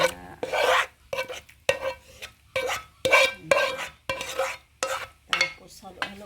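Carbonara sauce being stirred in a stainless steel bowl, rhythmic scraping strokes about once every half second, close and distinct with no voices.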